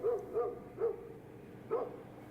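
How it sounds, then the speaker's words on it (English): A dog gives a few short, muffled barks or yips at irregular intervals, sounding somewhat distant over a low background hum. "That's a dog barking,"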